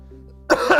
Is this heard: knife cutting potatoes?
no